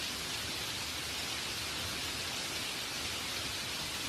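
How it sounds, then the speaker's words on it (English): Steady rain pouring down in an animated short, a dense, even hiss of falling water filling a puddle, constant and close with no other sounds. "With the toad gone, the old puddle hole began to fill again with the rainwater."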